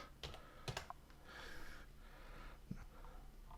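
Quick bursts of computer keyboard typing, scattered keystrokes clicking close by in short irregular clusters, with faint breathing and room noise between them.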